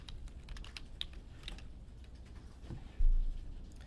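Steady typing on a computer keyboard, a quiet run of close, light key clicks with one heavier thump near the end, no talking.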